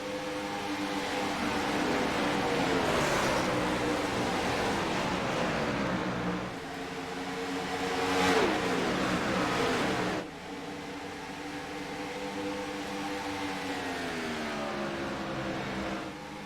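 Gen 4 stock race cars roar around the Las Vegas track, three wide, with a steady loud engine drone that swells and dips in pitch as cars pass, with no break in the noise.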